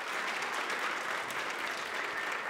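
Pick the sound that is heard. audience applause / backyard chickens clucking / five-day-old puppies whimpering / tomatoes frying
audience applause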